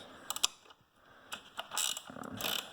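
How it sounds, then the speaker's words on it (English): Ratchet spanner loosening 10mm bolts on a Recaro bucket car seat, with quick close ratcheting clicks in short bursts separated by brief pauses and a few faint knocks. "Start by putting a 10mm on these. Ratchet spanner seems to be perfect."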